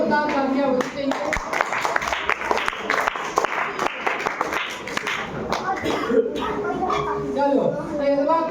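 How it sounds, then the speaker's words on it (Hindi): Loud, continuous applause from a live audience at a Hindi quiz contest, dense clapping filling the whole stretch with crowd noise and a host's voice briefly audible over it. "तो इनके लिए बहुत जोरदार तालियां होनी चाहिए।"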